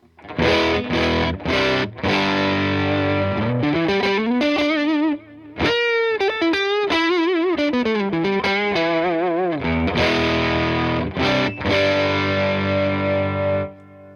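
Distorted electric guitar played loud through an overdriven Boss Nextone combo amp with gain at halfway and boost off, with chugging chords, bending sustained notes and a brief pause midway.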